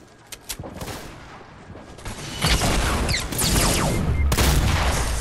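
A rocket explodes in Fortnite: scattered sharp shots and clanks come first, then a loud, sustained blast rumble takes over and keeps roaring to the end.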